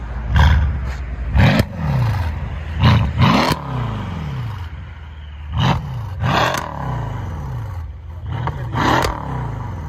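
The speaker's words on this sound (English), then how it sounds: "You can hear the turbo spooling up." An engine revved repeatedly in sharp bursts, with rising whooshing and whistling spool between throttle blips, loud and close, no speech.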